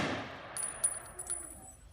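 A rifle volley fired at a military memorial, heard as one sharp report trailing into a long outdoor echo that fades over about two seconds, with faint metallic clinks afterward.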